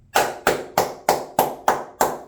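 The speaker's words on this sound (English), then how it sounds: "Van Ginkel, round of applause to you." Seven evenly spaced, loud single hand claps from one person close by, in a steady rhythm with short silences between each clap.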